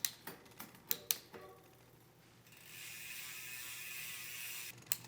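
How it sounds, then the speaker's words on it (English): An Advent MX rear derailleur on a bicycle shifts across the cassette, giving a quick series of close, sharp ratcheting clicks, then a soft steady whir of the freewheeling drivetrain and a final click. "Now make several shifts up and down the cassette."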